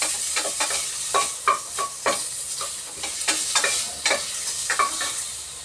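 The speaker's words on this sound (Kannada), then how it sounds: "ಸ್ವಲ್ಪ ಎಣ್ಣೆ ಹಾಕಿ ಈರುಳ್ಳಿ ಫ್ರೈ ಮಾಡ್ಕೊಳ್ಳಿ." Chopped onions fry in a little oil in a pan, a close steady sizzle punctuated by repeated sharp scraping stirs every half second or so, with no talking.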